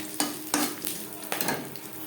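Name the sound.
bay leaves and whole garam masala frying in ghee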